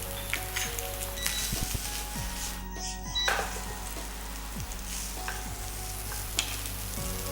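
Singapore fried rice sizzles and fries steadily in a hot wok as it is stir-fried with green chili sauce, with a few scrapes and clinks of the utensil over the continuous crackle.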